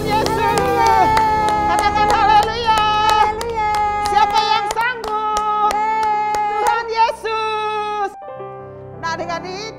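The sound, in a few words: people clapping hands in praise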